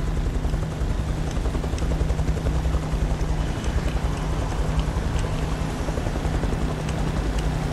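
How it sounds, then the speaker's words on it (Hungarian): Helicopter in the video game Beyond Two Souls, a steady dense rotor drone holding at even loudness throughout with a low hum underneath, no voices. "mutatod, hogy jön a helikopter."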